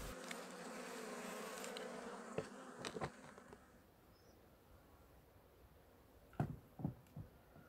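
Honey bees buzz at a hive entrance in February, a faint, steady hum that fades midway, broken by a few sharp knocks and clicks from hive work nearby, with no voices.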